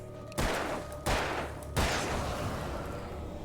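Three sharp gunshots from the Alan Wake video game ring out at roughly even intervals, each with a lingering echoing tail, loud and clear with no talking over them.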